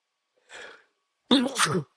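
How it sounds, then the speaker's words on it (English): A brief sharp inhale followed by a forceful, loud sneeze burst, close up, with silence around it. "I can feel a sneeze coming on"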